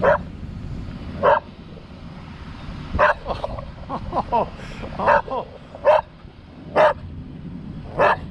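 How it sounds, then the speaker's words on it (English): A dog barks repeatedly nearby, sharp single barks spaced out with short yips in between, loud and clear. "He should be barking by now."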